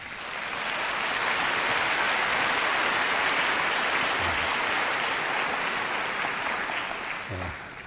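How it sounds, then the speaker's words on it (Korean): A church audience at a mission gathering claps warmly for a missionary from Thailand, a dense, sustained round of applause that swells in, holds steady and tapers off near the end. "선교사님 나오실 때 뜨겁게 박수해 주시기 바랍니다."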